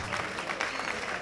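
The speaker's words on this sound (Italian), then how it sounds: "Facciamo un applauso, forza!" An audience at an Italian live show breaks into a short, dense burst of applause, a steady wash of many clapping hands heard up close.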